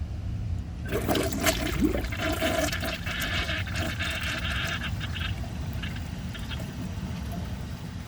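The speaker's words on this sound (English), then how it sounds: "I think this will have a pretty satisfying flush" A 2018 Delta Turner toilet flushes with a loud rushing swirl of water that fades into a long gurgling refill, close up with no talking.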